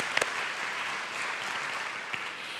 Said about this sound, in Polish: Kompozytor Henryk Kuźniak, wielkie brawa.